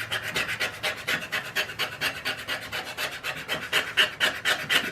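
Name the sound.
scraper blade scraping rust off iron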